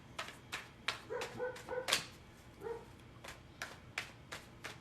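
A dog barks repeatedly outdoors in the background, sharp barks alternating with whimpering yips in an irregular rhythm, fairly faint and at a distance.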